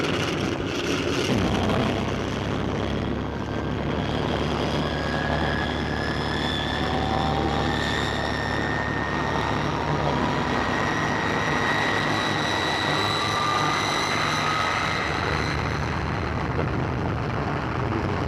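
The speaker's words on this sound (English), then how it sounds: "We're about to take off now." An early propeller airliner takes off, a loud, steady engine roar filling the cabin with a droning whine rising in pitch over the whole stretch.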